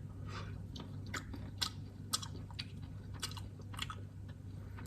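Close, crisp chewing of fresh pea shoots, a series of wet crunchy bites repeating about twice a second over a low steady hum, with no talking.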